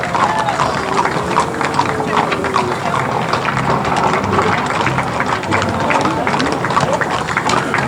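Horses clip-clop along a street in a rodeo parade, a continuous patter of hooves under loud wind and crowd noise, with a voice talking over it.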